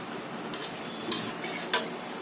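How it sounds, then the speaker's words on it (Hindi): Rice for chicken yakhni pulao is stirred in a pot, giving soft scraping swishes at a few moments over a low steady simmering background, close but fairly quiet. "तो चावलों की यहाँ चला देते हैं"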